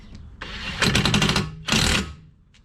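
An impact gun rattles in two rapid bursts, tightening the bottom bolt on a BMW Z3's suspension beside a new brake caliper, with short quiet gaps between the close, loud hammering runs.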